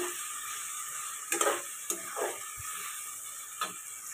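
Tomato masala sautés in a pan while a spoon stirs it, with a soft steady sizzle and a few scraping knocks against the pan, close up and with no voices.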